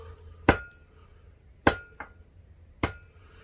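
A hammer strikes a copper bangle on an anvil in three sharp, ringing metallic blows spaced about a second apart, with a lighter tap after the second, close and clear over a low background hum.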